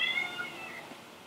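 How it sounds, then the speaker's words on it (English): A house cat gives a drawn-out, high meow up close, fading over about a second against a quiet room. "Oh, the cat wants to be in the video."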